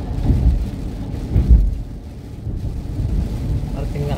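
Heavy rain in Brunswick, Pointe-Claire, Canada, heard as a dense, steady low roar with buffeting wind rumble on the microphone, while people talk faintly over it.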